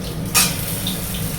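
Potatoes slipped into hot oil in a kadai, a brief splash and hiss followed by a low steady sizzle, close and without talk.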